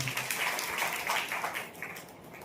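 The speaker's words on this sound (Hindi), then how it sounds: "उनके लिए भी ताली बजाओ।" Audience clapping for a woman's welcome song at a spiritual gathering, a steady ragged patter of many hands that fades slightly toward the end.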